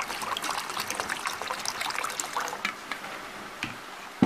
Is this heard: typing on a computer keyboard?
no